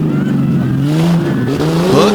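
The monster truck Funk's Young Gun roars as it rounds a corner at an outdoor monster truck competition, its engine revving and rising in pitch, loud and close, with a faint crowd or announcer underneath.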